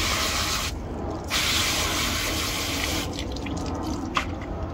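Water spraying from a hose to rinse wheel-cleaning tools and a car tire, a loud continuous hiss and splash up close that briefly shifts as the stream moves, with no talk.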